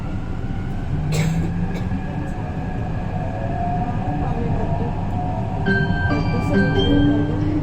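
A Hyderabad metro train rumbles along steadily near Secunderabad, with rail screeches and squeals rising and fading over the continuous roar of the carriage.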